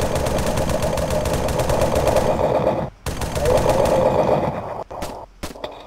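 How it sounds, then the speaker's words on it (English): Sustained automatic gunfire rattles loud and close in Arma 3, a rapid unbroken stream that stops briefly, resumes, then breaks off into a few scattered final shots. "I just heard shots"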